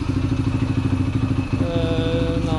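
A Yamaha TTR125 dirt bike engine with freshly adjusted, quiet valves idles steadily up close, a low even rumble with a light mechanical ticking and no revving.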